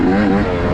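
A Yamaha YZ125 two-stroke race engine on a motorcycle revs hard in a brief, loud, close burst with a rising buzzy tone.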